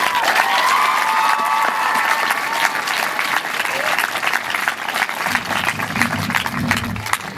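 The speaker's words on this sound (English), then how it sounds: "I would like if my fellow students joined me in applauding those who have helped us along the way" A graduation audience at a high school ceremony applauds steadily throughout, a dense wash of many hands with faint cheering and a murmur of voices mixed in.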